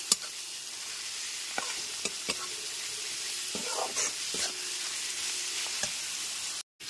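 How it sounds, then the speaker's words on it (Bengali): Onion, ginger and garlic paste frying with salt and turmeric in a pan, a steady sizzle broken by repeated spatula scrapes and stirring knocks, close and continuous. "লবণ আর হলুদ গুঁড়োটা দিয়ে পেঁয়াজ আদা রসুনের সাথে খুব ভালো করে একবার মিশিয়ে কষিয়ে নিতে হবে"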